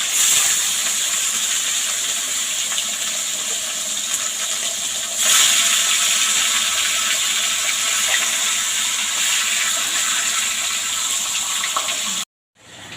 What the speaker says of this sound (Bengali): তেল গরম হয়ে গেছে। এবার আমি মাছের মাথাটা দিয়ে ভেজে নেব।